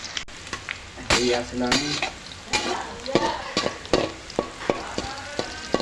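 Onions fry and sizzle in a pan while a spoon scrapes and clacks against it in repeated stirring strokes, close and busy, with a brief voice speaking partway through.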